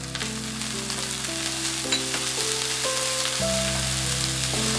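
Pork belly, sausages and green peas sizzling in a hot pan for Cantonese fried rice, a loud constant crackle with light scraping of stirring and faint background music tones.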